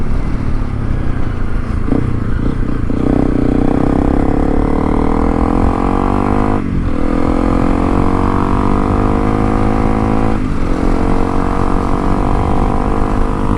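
A Honda CRF300L Rally motorcycle engine pulls under throttle on a hill at Quartz Mountain, droning loud and steady while it builds speed, with its pitch rising and falling slightly through gear changes.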